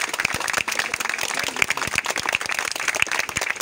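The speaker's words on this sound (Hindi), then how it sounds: "कम से कम 1 मिनट तालियां बजाई जाएं" Audience applause at a cycling club's outdoor plantation-day gathering: a steady, dense patter of many hands clapping, fairly close and sustained for several seconds without a break, with no talking over it.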